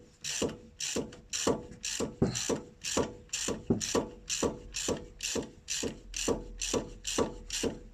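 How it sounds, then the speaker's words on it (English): Ratchet tightening the brake caliper slide bolts on a Ford Fiesta: a steady run of sharp, evenly spaced clicking strokes, close and loud, with no talk. "Right now I'm torquing down on the sliding bolt screws."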